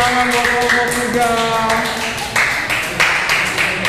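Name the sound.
applause for group 3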